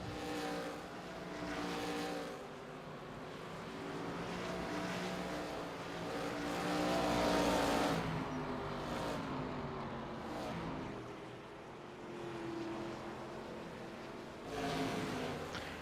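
A D-class ARCA race car engine runs during a race at Langley, a steady, fairly faint drone that swells and fades as the car laps.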